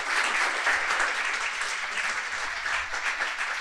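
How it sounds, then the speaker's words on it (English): A large audience applauds a panel of six student speakers at a finance event, with dense, steady clapping that stays loud and even throughout without any talk. "please big applause for all these 6 great people"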